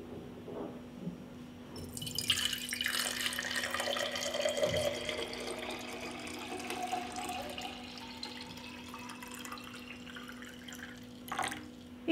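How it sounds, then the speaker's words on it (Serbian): Water is poured from a stream into clean 0.7 litre glass jars, a steady splashing fill that rises in pitch as the jar fills, then tapers off into quiet with a brief clink near the end. "Prvo što radim, vodu sipam u čiste tegle."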